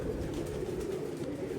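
A caged Teddy-type pigeon gives a low, continuous throaty coo, close and moderately loud, with no talk over it.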